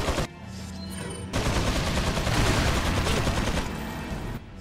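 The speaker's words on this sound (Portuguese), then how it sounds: "Taca essa granada aqui, ó." Grenade blast and gunfire in Resident Evil 4, a loud sustained burst of rapid shots and explosive rumble that cuts in abruptly, briefly drops, then roars on for several seconds before cutting off.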